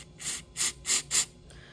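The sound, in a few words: spraying starting fluid into a small engine carburetor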